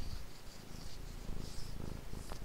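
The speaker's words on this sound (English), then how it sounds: "I don't know if her purring is coming through on the mic, but she purrs a lot." A house cat purring steadily and softly nearby in a quiet indoor room, a continuous low rumble with a gentle rhythmic pulse and no voices.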